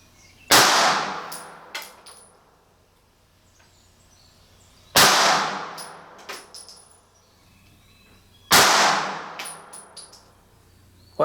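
Three 9mm Federal HST 150-grain Micro rounds are fired into ClearBallistics gel blocks, each a sharp, loud report a few seconds apart, followed by brief clinks and a decaying echo.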